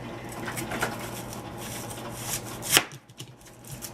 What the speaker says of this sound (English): she's going to cut up the onions